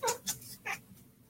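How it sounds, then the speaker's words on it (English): A pet cat gives three short meows in quick succession, fairly close and moderately loud, over a quiet background with no talking. "There is my kitty."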